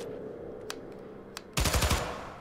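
A Gauss gun firing in the Syndicate video game: after a few quiet clicks, a rapid burst of about half a dozen heavy, punchy shots rings out loudly and closely, then trails off into a lingering hum.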